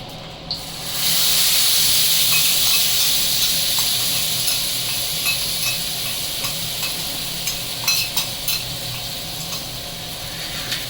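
Masala spice mix hits hot oil with curry leaves in a pan and sets off a sudden loud, steady sizzle that hisses on unbroken, with faint clicks and stirring scrapes scattered through it.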